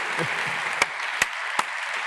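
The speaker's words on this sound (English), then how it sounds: "Applause!" An audience at a closing ceremony claps, a soft, steady spatter of applause with a few sharp, louder claps standing out close by.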